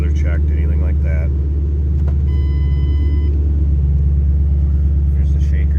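A 2007 Ford Mustang Roush 427R convertible idles with a loud, steady low exhaust rumble throughout, while a person talks over it.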